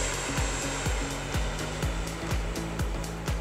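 Twin 64mm electric ducted fans on a radio-controlled F-15 Eagle model jet at full throttle, a loud, steady, high-pitched rushing whine heard close and continuous with a faint repeating flutter, with no talk.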